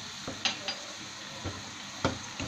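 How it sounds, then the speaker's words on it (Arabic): Garlic with black pepper and cumin sizzles in a frying pan, a low sizzle broken by several sharp clinks and scrapes of stirring against the pan. "هاي ترموها ديجا دير في هذيك المقله، وترمو الثوم"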